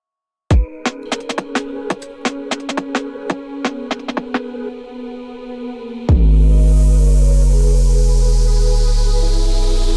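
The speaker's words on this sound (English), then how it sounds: "that noise is a bit much at the start of the riser" Noisy riser effect in a music track: a bright wash of noise swells in and holds loud over sustained tones, after a sparse run of plucked or percussive hits at the start.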